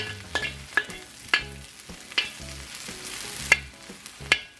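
Pork rib tips with diced onion and garlic sizzle in a wok, a steady close frying hiss broken by regular scraping stirs every half second or so.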